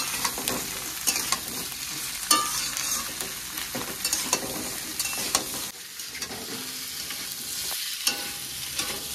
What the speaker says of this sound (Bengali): এবার পেঁয়াজের সাথে আলু আর পটলটাকে ভালো করে ভাজবো।